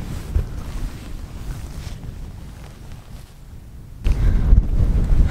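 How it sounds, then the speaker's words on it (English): Strong wind gusting across an open upland grouse moor, a steady low roar of buffeting against the microphone that eases slightly midway, then surges louder and rougher toward the end, with no voices. "The problem is the wind is so strong, it's just kind of blocking"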